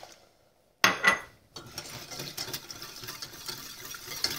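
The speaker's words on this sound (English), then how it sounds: "I'm going to take my whisk and whisk in my milk." Milk being whisked into a butter and flour roux in a pot: a sharp splash and metal clatter, then steady scraping and swishing of the whisk against the pot, close and moderately loud.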